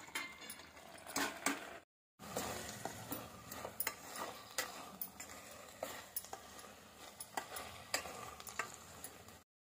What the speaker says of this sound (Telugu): అడుగు అంటకుండా మధ్య మధ్యలో కలబెట్టాల